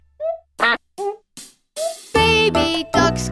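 A cartoon mother duck quacks in a children's farm-animal nursery rhyme, with a sung voice imitating a few short, bright quacks before cheerful backing music and singing come in.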